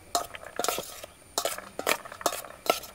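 Sweet corn kosambari salad being stirred and mixed in a bowl with a utensil: a string of close, brisk scraping and clinking strokes in uneven bursts, with no talking.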